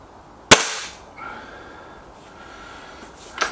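A single sharp crack of a Gamo Whisper X air rifle firing up close, followed by a short fading tail and quiet background, with a faint second click near the end.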